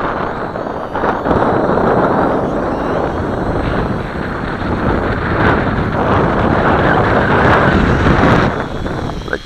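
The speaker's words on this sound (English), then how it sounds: "This is the wind, folks." Strong wind of around 15 knots roars and buffets continuously across the microphone on a boat, a loud, dense rumble that never lets up and swells slightly toward the end, with no voices.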